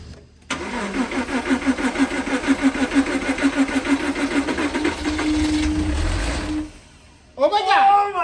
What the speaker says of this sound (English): It started and I turned it off.